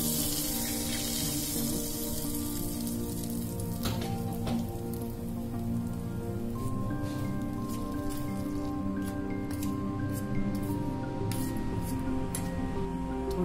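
Hot ghee is poured over salted flour for karanji dough, giving a steady, soft crackling patter like light rain that continues unbroken, fairly close and gentle, with faint tones behind it.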